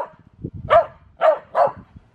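A small pet dog barks three times in quick succession, close and sharp, with soft indoor rustling between the barks.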